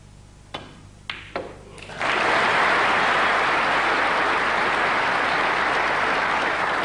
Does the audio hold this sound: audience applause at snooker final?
yes